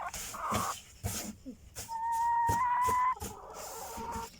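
Hens in a chicken coop, several close clucks and short calls, with one sustained drawn-out cackle in the middle.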